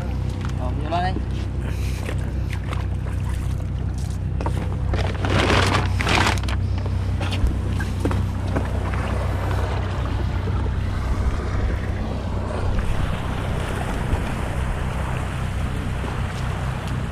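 A fishing boat heads out to sea, its steady engine drone mixed with wind and water noise throughout, while people talk over it.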